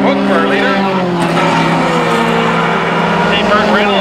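Closed-wheel race cars roar past on a racetrack at Mission Raceway, engines droning and shifting pitch as they brake into a turn, loud and continuous with a voice talking over the noise.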